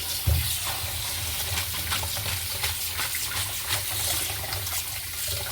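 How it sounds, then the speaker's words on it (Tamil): Cooked pasta and hot water are poured into a strainer close by, a steady rushing splash with a brief heavier gush at the start. "அதை எடுத்து நம்ம வந்து அப்படியே ஒரு வடிகட்டியில் ஊற்றி வடிகட்டிடலாம்."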